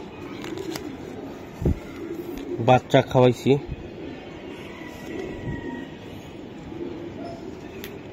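Racing pigeons coo in a short cluster of low, rhythmic throaty pulses near the middle, while someone speaks briefly and a steady background hum continues.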